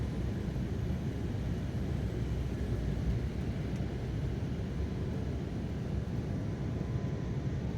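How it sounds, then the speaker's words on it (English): Inside an airplane landing at San Francisco airport at night, a steady low engine and cabin roar runs without a break, with no talk. "we just landed in San Francisco"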